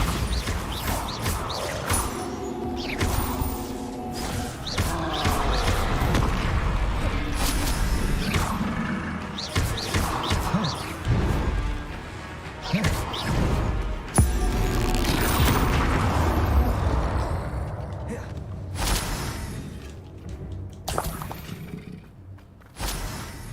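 A Bombarda spell blasts in the Hogwarts video game, booming and crashing amid dense game sound, with thuds and smashing bursts that keep up steadily across the stretch.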